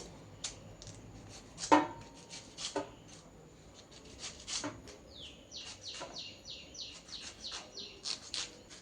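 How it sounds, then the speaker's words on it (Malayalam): Banana flower is cut up in a chopper, producing a series of irregular sharp chopping clacks at close range, with bird chirps faintly in the background. "ചോപ്പറിലാണ് ഞാൻ നുറുക്കിയെടുക്കുന്നത്"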